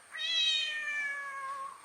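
A playful cat gives one long, drawn-out meow that slides slowly downward in pitch. It sounds clear and close against quiet surroundings, with no other noise.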